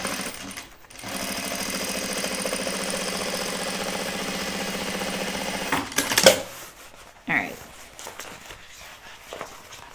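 A sewing machine runs a 1/4 inch seam on fabric for a steady stretch of several seconds, a close mechanical whirr that cuts off, followed by short handling clatters and quiet.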